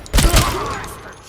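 A single gunshot rings out in the RoboCop: Rogue City video game, a loud close burst with a short rumbling tail, standing alone without talk.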